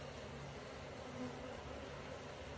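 Honeybees buzzing in a hive opened for a quick winter check, a faint, steady low hum throughout with a brief louder buzz near the middle, no talking.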